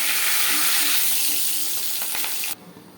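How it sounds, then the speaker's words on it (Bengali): Rohu fish heads fry in hot oil, a loud dense sizzle that holds steady and then cuts off abruptly near the end. "রুই মাছের মাথাগুলো ভাজা হচ্ছে।"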